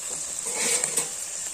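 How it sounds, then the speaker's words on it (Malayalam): Crushed pepper, shallots, ginger and garlic frying in hot coconut oil for a mutton liver curry, giving a brief, close, steady sizzle as the mixture is stirred. "പിന്നെ നമ്മൾ ചതച്ച് വെച്ചേക്കുന്ന കുരുമുളക്, ചെറിയ ഉള്ളി, ഇഞ്ചി, വെളുത്തുള്ളി നല്ലതുപോലെ മിക്സ് ചെയ്യാം."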